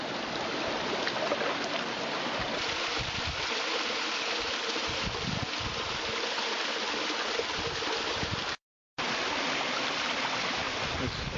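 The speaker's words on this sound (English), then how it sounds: "we're now just at the bottom of that little waterfall" Water pours down a small waterfall in a peat gully, making a steady, close rushing roar. The sound cuts out briefly near the end, with no talking over it.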